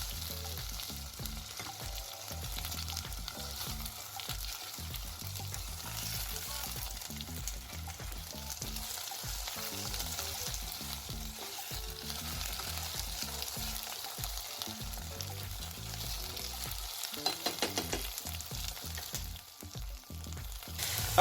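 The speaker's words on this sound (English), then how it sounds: "So to minimize the sliminess, what I do is fry it." Okra frying in a small pot, giving a steady, dense sizzle with stirring scrapes throughout, close and constant over twenty seconds with no talk.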